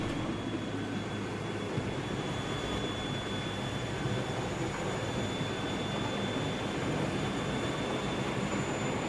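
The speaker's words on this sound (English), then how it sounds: "Passing our train running light in the opposite direction to the yard is D6316, a headcode box fitted loco" A model Class 22 diesel-hydraulic locomotive, D6316 with headcode boxes, runs light past, giving a steady, loud, continuous rolling rumble and whine throughout with no talk.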